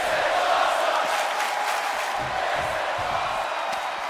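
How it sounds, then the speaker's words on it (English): A packed arena crowd in the WWE 2K24 wrestling game roars and cheers continuously, a broad steady wall of voices with scattered shouts rising out of it. "What a raucous crowd here tonight."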